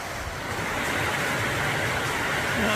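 Steady rushing wash of a stream along the Appalachian Trail, a constant, fairly loud broadband flow with no distinct splashes or voices.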